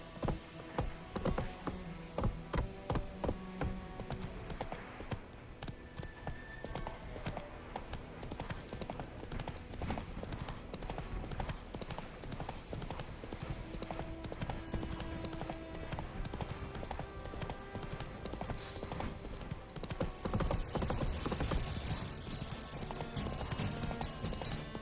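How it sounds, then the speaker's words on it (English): Steady hoofbeats of a horse galloping in The Witcher 3: Wild Hunt, a continuous drumming rhythm that runs the whole time over game music and ambience, with no speech. "Run, Roach"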